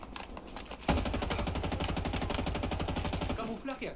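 Sustained automatic gunfire in a Halo Infinite multiplayer match: a rapid, even burst of close, loud shots runs for about two and a half seconds, then cuts off.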